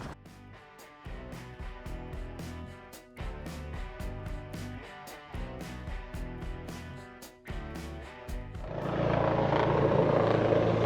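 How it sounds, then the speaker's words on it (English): A patrol helicopter over a motorcycle event in Tordesillas, Spain, its rapid rotor chop pulsing steadily overhead, then swelling into a louder, broader roar as it passes closer. "There's a helicopter like patrolling the area because of the motorcycle event."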